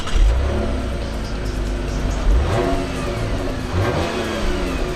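A 2014 Chevrolet Impala with a 3.6-liter V6 accelerating from inside the cabin, its engine note rising and climbing through gears in a loud, steady mid-pitched drone with brief shift dips.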